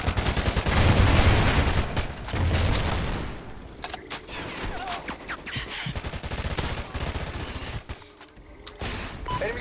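Ripper SMG gunfire in Call of Duty Ghosts on Xbox One, rapid automatic bursts loud and close, with dense crackling fire early and scattered shots and game effects later.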